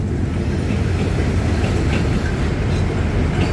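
A QSY locomotive hauls Japanese JR carriages on a test run toward Chiang Mai, making a loud, steady, close rumble of wheels and rolling stock throughout, with faint clicks on top.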